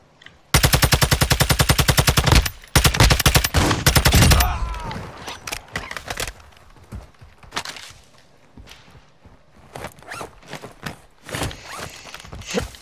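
Automatic gunfire in the video game Warzone DMZ, with loud rapid bursts close by, then scattered shots and impacts as the firing thins out.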